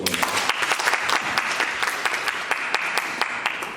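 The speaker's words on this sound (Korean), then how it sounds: "박수 한번 주세요" A lecture audience in a legislative training course claps briefly for a participant, scattered individual claps merging into short, moderate applause.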